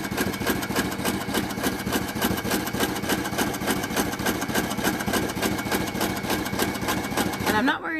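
Sewing machine quilting fabric place mats, a steady close mechanical whir with a rapid, even needle rhythm running throughout before stopping abruptly at the end.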